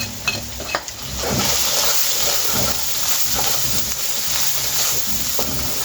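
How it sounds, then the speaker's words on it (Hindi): Green chillies and ginger frying in a pan for chicken curry give a loud, steady sizzle throughout, broken by a few sharp clinks of stirring early on, with no voices. "इसको थोड़ी देर भूनेंगे।"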